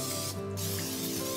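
Olive oil cooking spray hissing steadily from an aerosol can onto halved spaghetti squash in a pan, a close, continuous spray lasting about a second and a half with a faint kitchen hum beneath.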